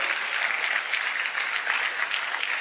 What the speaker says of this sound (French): on applaudit comme vous savez le faire